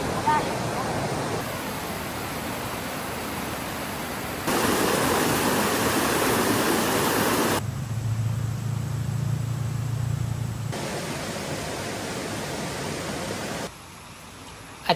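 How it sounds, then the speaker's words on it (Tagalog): Water rushes from a waterfall beside a cabin, a constant broadband roar that shifts abruptly in loudness and tone across several sections, with a faint high whine in some parts. "Yung naririnig ninyong lagaslas ng tubig, yes, dito yan sa cabin kasi mismo malapit yung cabin sa waterfalls."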